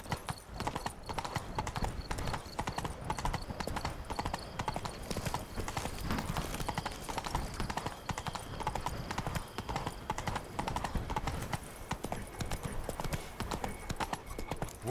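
Hooves of the horse Roach clip-clop steadily in The Witcher 3, a brisk, continuous rhythm of hoofbeats over ground carrying on alone for the whole stretch, with no talking.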